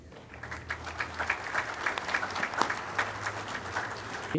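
A conference audience at an information technology school event welcomes a presenter with steady applause, moderately distant with a low hum underneath.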